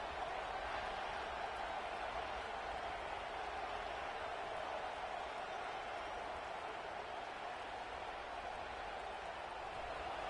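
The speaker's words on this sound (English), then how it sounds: "this big crowd doing everything possible to inspire this defense down here near the goal line" A big college football stadium crowd roars steadily as the defense makes a goal-line stand, a dense, sustained wash of distant cheering without pauses.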